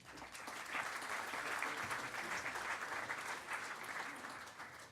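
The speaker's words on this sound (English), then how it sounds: "please keep your applause going" Sustained applause from an audience at an evening event fills the room steadily and evenly, dense clapping holding at a moderate level throughout with no voice rising above it.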